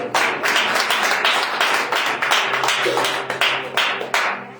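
A church congregation claps in a brisk, steady rhythm during worship, with dense overlapping hand claps filling the room and no voices standing out.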